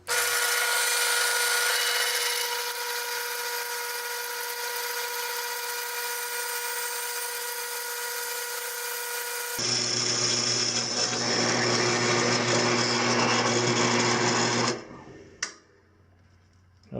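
A drill press whines steadily for several seconds, then shifts to a louder, harsher grinding as the bit cuts into plastic, stopping abruptly near the end.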